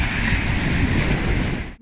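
Ocean waves break on a beach beside a camper van, a dense, continuous roar of surf close by with wind noise and no voices.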